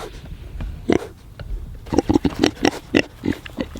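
Kune Kune pigs on pasture grunting close by, a single grunt first, then a quick run of about eight short, rhythmic grunts.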